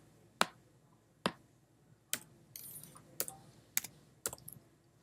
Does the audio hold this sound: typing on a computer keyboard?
yes